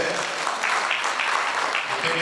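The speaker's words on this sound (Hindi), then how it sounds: "कृपया एक बार जोरदार तालियों से" Audience at a Rotary Club gathering claps in a hall, a dense and steady burst of applause that fills the whole clip at an even level, with voices mixed in.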